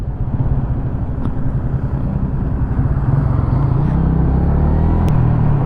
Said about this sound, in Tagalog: may tatawid na motor.